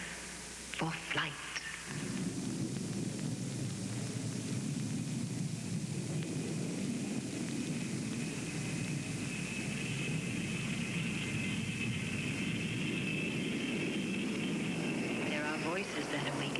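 Allegheny Airlines airliner engines throttle up for takeoff, a loud steady roar with a sustained whine building after a brief burst of sound at the start, continuing unbroken to the end.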